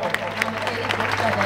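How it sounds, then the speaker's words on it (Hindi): An audience at a Hindi comic poetry gathering at a Ganpati temple claps steadily, a dense patter of applause mixed with crowd murmur and a low hum. "जोरदार तालियां हो जाए"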